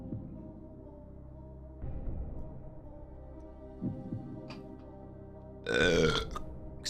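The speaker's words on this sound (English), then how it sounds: "I did a big burp" A single deep, rumbling burp erupts near the end, loud and close, after a stretch of low hum and faint background noise.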